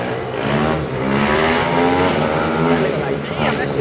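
A wheelie bike engine revs hard and climbs through the gears, loud and close, with rising and falling engine tones and voices talking over it.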